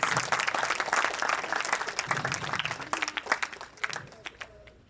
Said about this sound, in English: A huge round of applause for our guests and our panelists.